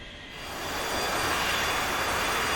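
Aircraft engine running on the ground while holding short of the runway in a video game, a steady, loud broadband roar that swells over the first second, then holds even and alone.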